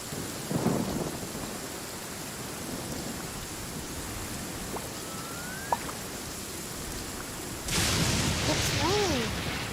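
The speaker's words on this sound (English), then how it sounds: "It's raining." Steady rain hiss throughout with a low rumble of thunder, brief tonal chirps in the middle, and a louder burst of rain and rumble near the end, in a video game.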